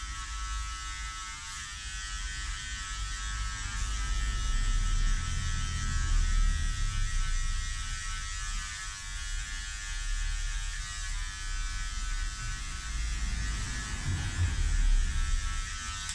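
Electric hair clipper buzzing steadily at close range as it runs through hair during a number 3 haircut, a continuous motor hum with slight swells as the blades move, no talking.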